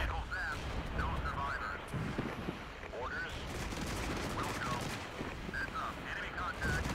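Artillery and gunfire rumble through a battle in the video game Regiments: continuous distant booms and crackling rifle fire form a steady wash, with someone talking over it.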